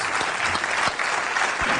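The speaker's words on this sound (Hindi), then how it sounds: "तालियों के साथ इनका अभिनंदन।" A studio audience at the Kaun Banega Crorepati game show claps loudly for a 25 lakh winner. The applause is close and continuous, with a few sharper individual claps standing out from the mass.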